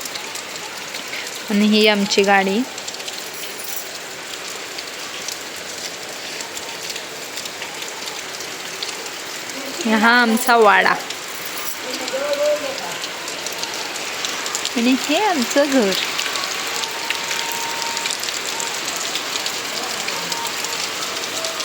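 Steady rain falls throughout on a Konkan house, a broad continuous hiss that stays in the background while people talk over it in short bursts.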